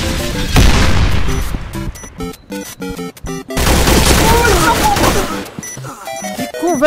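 Bursts of rapid video-game gunfire crackle in and out over several seconds, with short gaps and people talking in between.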